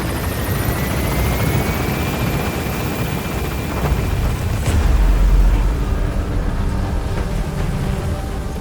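The Pequod helicopter from the video game Metal Gear Solid V: The Phantom Pain hovers with a loud, continuous rotor roar that swells to a heavier rumble midway, with no voices.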